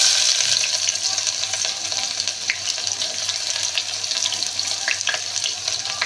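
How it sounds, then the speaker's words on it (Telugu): Onions and green chillies fry in hot oil in a pan for a chicken curry, giving a dense, continuous sizzle up close. A few faint clicks of stirring can be heard through it. "తర్వాత చిల్లీస్, ఇది కొద్దిగా ఫ్రై అవ్వనివ్వాలి"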